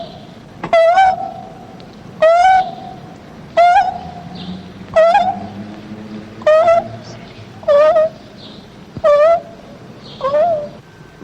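A human voice imitates a dove's song, repeating a soft cooing call about eight times at a steady, evenly spaced rhythm, close and fairly loud.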